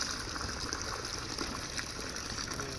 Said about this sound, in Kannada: ಇವತ್ತು ನಾವು ಮಾಡೋದೇನೆಂದರೆ ಗಿಡಗಳಿಗೆ ನೀರು ಹಾಕ್ತಾ ಇದ್ದೀವಿ